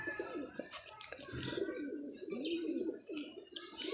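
Pigeons of an old golden bloodline cooing in a loft, repeated soft throaty coos rolling close by, with faint chirps and a voice talking at low level underneath.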